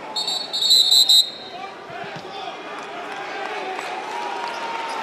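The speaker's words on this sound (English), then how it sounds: "And a whistle by Steven Anderson." Referee's whistle at a Texas A&M vs Alabama college basketball game, a sharp shrill blast lasting about a second near the start, then arena crowd murmur and squeaking shoes carry on underneath.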